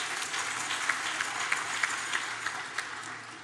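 An audience at a Women's Day address applauds, a continuous wash of clapping with a few sharper claps standing out, heard from some distance.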